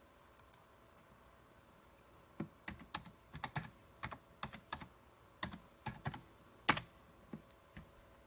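Keys clack on a computer keyboard in a burst of irregular taps, a dozen or so sharp close clicks with one louder strike near the end, no voices.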